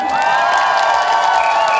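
A large crowd cheers and shouts loudly in a brief, sustained burst of excitement at a singer's concert at the Daejeon 0 o'clock Festival.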